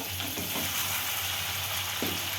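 Kadai chicken sizzles and fries in a pan while being stirred, a steady dense crackle with a low hum underneath and a couple of brief scraping stirs.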